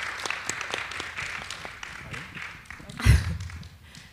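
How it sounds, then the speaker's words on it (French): A talk show audience gives brief scattered applause, rising to a short louder burst of claps near the end, with voices around it. "Est-ce qu'on peut donner une bonne main d'applaudissement?"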